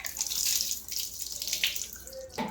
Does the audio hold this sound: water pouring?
yes